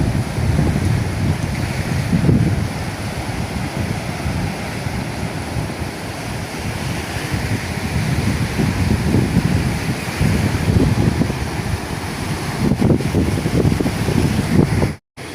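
Strong monsoon wind buffeting the microphone over crashing sea waves, a loud continuous roar with surging gusts and rolling surf, cutting off abruptly at the end.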